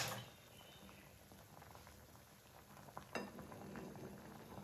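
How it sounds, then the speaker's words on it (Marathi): Toor dal boiling in a pot, a soft steady bubbling and patter that holds fairly constant throughout with one brief sharper pop near the end. "डाळीला छान उकळी येऊ द्या."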